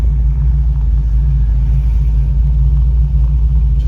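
An LS3 416 V8 swapped into a 1981 NASCAR Trans Am cruises along, giving a loud, steady low rumble with constant engine drone from inside the car.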